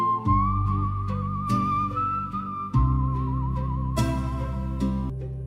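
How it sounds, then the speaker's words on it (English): A singer whistling a wavering melody over music on a recording, the clear whistled tone gliding steadily above accompanying instruments. "Is she whistling?"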